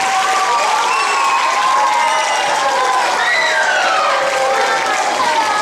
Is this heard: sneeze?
no